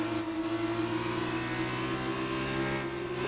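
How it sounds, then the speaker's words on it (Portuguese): An F2 race car engine from the F1 2019 game revs at a high, sustained pitch with a steady tonal whine, holding loud and even throughout with no talk. "Se esguela ali o motor da F2."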